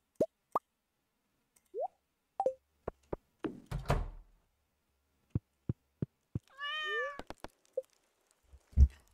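A cat in Stardew Valley gives a few short meows amid scattered game pops, clicks and chimes, heard clearly against an otherwise quiet background.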